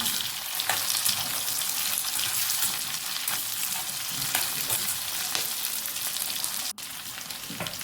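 Garlic and green chilies sizzle steadily in a hot pan, a dense, even frying hiss with faint scraping stirs throughout and one brief dip near the end.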